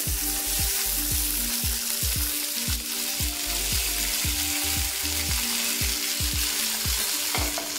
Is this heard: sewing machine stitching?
no